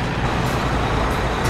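A haul truck at a construction site, its heavy engine rumbling steadily and close by for a moment, with no voices over it.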